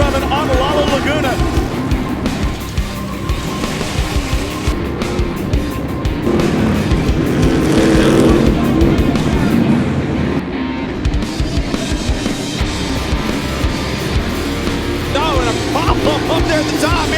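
Stadium Super Trucks race at the LA Coliseum, among them Rob McCachran's blue and silver Traxxas truck, with a dense, continuous engine roar throughout and a race commentator talking over it.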